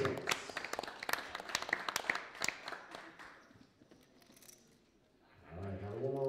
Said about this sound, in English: one more round of applause for these six players